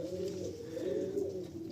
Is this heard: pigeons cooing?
yes